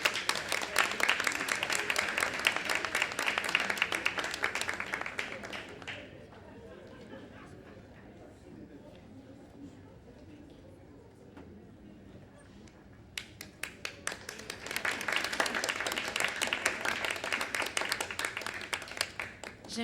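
A crowd at a graduates' gala applauds in two bursts of dense clapping, with a quieter lull of murmuring between them.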